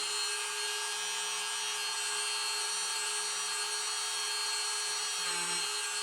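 A rotary polisher works gently on Rolex Datejust watch hands during restoration, a steady close whirring and grinding hum that runs evenly throughout without pauses or talk.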